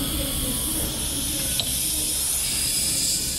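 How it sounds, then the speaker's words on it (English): Air hisses steadily from a small set screw in the axle plug of a truck trailer hubcap, part of a Meritor ThermALERT wheel-end system; a continuous close, even leak with no talk. "you can still hear air leaking out of that little set screw that's installed into the axle plug"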